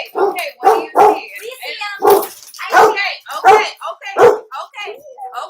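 A dog barks repeatedly at other dogs passing by, a run of sharp close barks and yips in an uneven rhythm, loud and near, with whimpery tones between barks.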